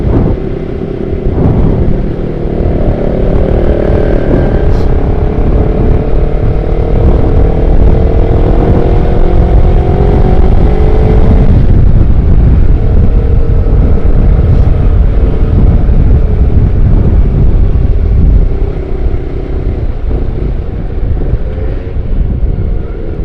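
A Honda CBR 250RR motorcycle drones steadily and loudly throughout the ride, its engine tone rising and shifting over a heavy rush of wind noise, with no talking.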